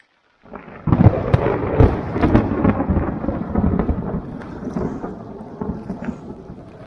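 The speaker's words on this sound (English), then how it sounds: "that was lightning right up above our head" A thunderclap from lightning directly overhead during a thunderstorm on an Arkansas river float trip. A sharp crack opens into a loud, close, rumbling roll that fades over several seconds, with no voices.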